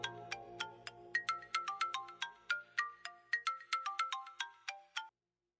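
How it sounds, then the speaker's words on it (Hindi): A bright electronic phone ringtone melody of rapid, evenly spaced chimes repeating for about five seconds, then stopping abruptly; no voices. "मैं ना अमल को कॉल करके बताती हूँ।"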